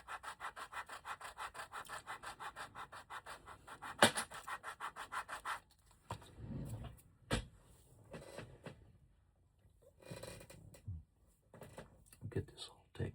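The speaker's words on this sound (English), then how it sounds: "Let's go ahead and sand this down." Wood is hand sanded at a leather wallet maker's bench, with rhythmic back-and-forth scraping strokes for several seconds, then scattered rubs and light knocks.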